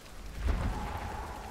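Steady rain falling in the Hunt: Showdown video game, a dense continuous wash of patter with a brief heavier rumble near the start, alone without talk.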